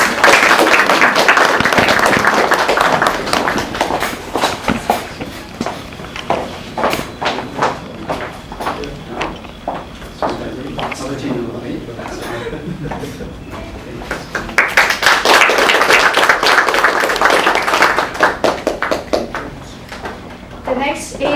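An audience at a business networking meeting gives rounds of applause as certificates are presented. Two loud, dense bursts of clapping frame a stretch of scattered claps and taps, with people talking throughout.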